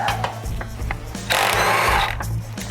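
Removing the winch bumper bolts on a Jeep JL involves quick clicking ratchet strokes, then a longer whirring spin as a bolt turns loose, all close and alone.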